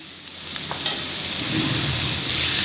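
Minced meat fries with golden-brown onions in a hot pan, giving a close, continuous sizzle that swells steadily louder as it is stirred, with faint scraping touches near the start.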